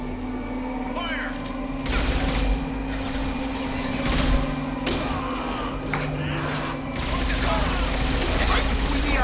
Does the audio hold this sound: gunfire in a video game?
yes